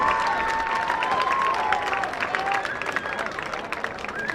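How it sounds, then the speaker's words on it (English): Stadium crowd at a high school football game applauding the homecoming court, steady clapping and cheering throughout, far-off and continuous. "Let's give a big round of applause to Ashton Kirby and Ronnie Johnson and our homecoming court tonight."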